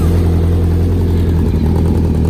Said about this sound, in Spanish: Fijaros qué fino suenan los motores Honda.